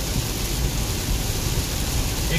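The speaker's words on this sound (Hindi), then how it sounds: "ये जिस तरह की बारिश हो रही है अब लगता नहीं है कि जल्दी रुकने वाली है" Heavy evening rain pours down steadily during a car road trip from Hyderabad to Srisailam, a dense, even hiss drumming on the vehicle with no pauses.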